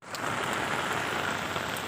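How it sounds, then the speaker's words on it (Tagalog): Heavy rain pours down steadily in a storm with strong winds, a dense, continuous hiss of drops hitting surfaces close by, loud and unbroken from start to end with no voices. "But it's heavy raining now."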